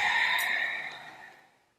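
A single long exhale during a yoga forward fold, close and breathy, fading out over about a second and a half with no speech.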